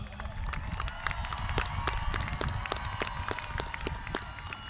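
Audience applause at a 2025 Edgewood ISD Memorial High School graduation ceremony, steady dense clapping from a large crowd with scattered cheers, sustained throughout.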